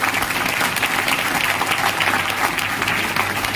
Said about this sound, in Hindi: मैं चाहूंगा महागुरुजी महिपाल सर के लिए एक बार जोरदार ताली दीजिए